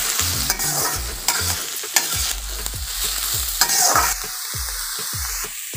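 Onion, capsicum and carrot are stir-fried on a high flame for chowmein, rhythmic clanking spatula strokes against the pan over a loud continuous sizzle, close up and without voices.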